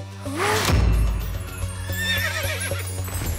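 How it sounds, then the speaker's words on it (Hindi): A horse gives a loud, drawn-out neigh, its pitch wavering up and down, over a constant low hum. "ये तो चेतक की आवाज है।"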